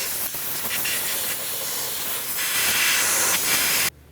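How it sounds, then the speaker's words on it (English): Compressed air blasting around the engine bay of a 2002-2009 Chevrolet Trailblazer, a steady loud hiss lasting several seconds before cutting off abruptly. "let's use some compressed air and clean the area."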